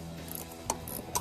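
Ratchet wrench with a 10mm socket working on screws of a heater bracket, several quick clicking pawl ticks with two sharper clacks, close and faint, no talk.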